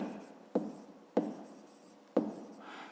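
Pen writing on paper during a fifth-grade maths exercise, three distinct scratchy strokes each starting with a sharp tap and trailing off, close and quiet with no talk.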